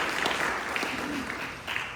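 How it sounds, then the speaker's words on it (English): Audience clapping at a morning temple program in a Houston Gaudiya Matha hall, a steady dense round of applause lasting the full two seconds with a brief swell near the end. "Clapping for them."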